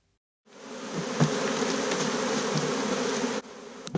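A dense, steady buzzing drone of a swarm of about 30,000 honeybees flying close by, continuous for about three seconds before dropping off, with a few sharper buzzes passing near.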